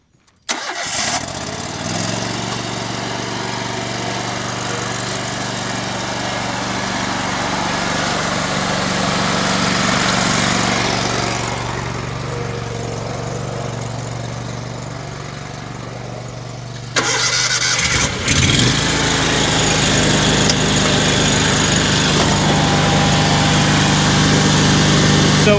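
A Grandstand Multi-Force stand-on lawn mower engine starts, then runs at a steady loud drone that swells and eases. Around two-thirds through it cuts briefly and then resumes at a higher, harsher pitch.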